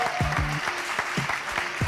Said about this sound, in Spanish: Así que un fuerte aplauso para Elena Oma y Vega Jimeno